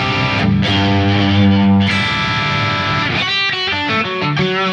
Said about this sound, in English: you can hear there's a lot of distortion happening here